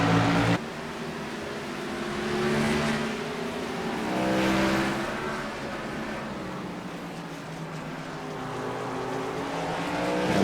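V8 Supertrucks race at Donington, with truck engines roaring and droning through gear changes, swelling twice as trucks pass close, a steady loud racing drone throughout.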